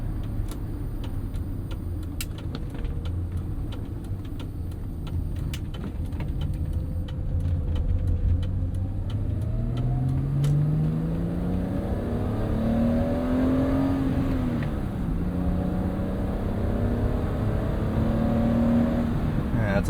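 A 1987 BMW 325is E30 with a 5-speed manual revs while driving, its engine note climbing and falling in steady sweeps under constant road and cabin noise, with some talk mixed in.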